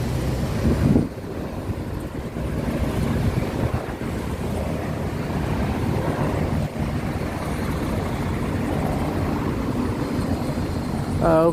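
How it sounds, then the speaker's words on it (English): Helicopter taking off near Chelsea Piers on the Manhattan waterfront, a broad steady rotor and engine roar mixed with wind buffeting on the microphone, continuous and fairly loud. "And you can see a helicopter taking off."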